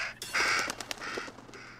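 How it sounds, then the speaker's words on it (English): A crow caws in the horror game Little Hope, a few harsh, ragged calls in quick succession, fairly close and clear against a quiet background. "Oh, that fucking bird's here."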